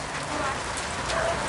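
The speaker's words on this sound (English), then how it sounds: "we're having a spring shower, so have to let it quit raining before we get back out on it." Outdoors, a spring rain shower patters steadily on surfaces, with dense drops hissing throughout and no clear speech.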